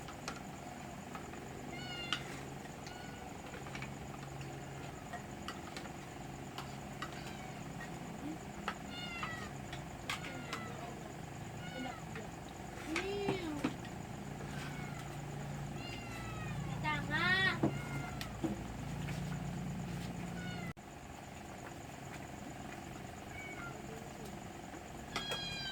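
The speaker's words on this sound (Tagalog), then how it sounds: "Maingay yung pusa." A cat meows repeatedly, some calls rising louder and more drawn out, over a steady background hum with people talking intermittently.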